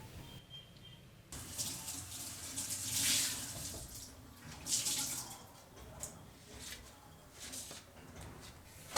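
Tap water runs steadily into a sink while dishes are washed, a close, continuous hissing splash that swells and eases with a few faint clatters and no voices.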